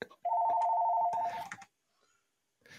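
A telephone gives a short electronic ring, a steady warbling tone lasting about a second before it cuts off, followed by quiet and a brief burst of other sound.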